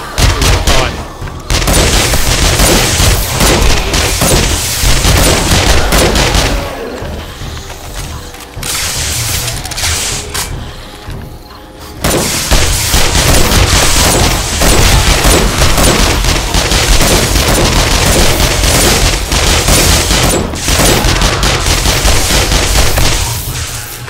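Rapid gunfire, including piercing rounds, cuts down zombies during a horde night at a new base in 7 Days to Die. The shots are loud, dense and nearly continuous, with a brief lull partway through.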